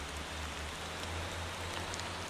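Rain in the truck driving game Motor Town hisses steadily as a dense, even wash, with a low engine rumble underneath and no talking.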